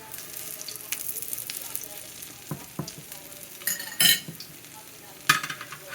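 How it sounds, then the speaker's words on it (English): Pancakes sizzle softly in a frying pan while a spatula scrapes and clinks against it, with a few sharp metallic taps and short scraping bursts over the steady quiet frying. "you want to take your spatula, you want to go under it, and you want to touch it, and you turn it like that"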